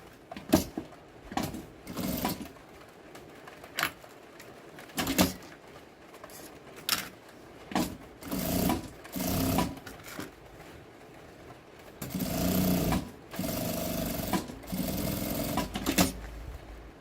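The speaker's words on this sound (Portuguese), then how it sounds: "vou passar uma costurinha aqui, rebatendo" A sewing machine topstitches the lining of a zipper pouch in short bursts of rapid stitching with pauses between, ending in a longer steady run, close and fairly quiet.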